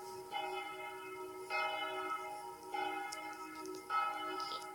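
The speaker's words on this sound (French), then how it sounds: "Donc l'Angélus à l'église Saint-Sylvestre, c'est une cloche" A single Angelus bell rings at Saint-Sylvestre church, struck four times at a slow, even pace, each ringing tone hanging on faintly into the next.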